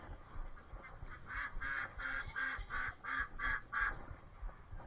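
Young ducks calling in a backyard garden, a series of about eight fairly faint, evenly spaced quacking calls in a row, with low outdoor background noise and no talk.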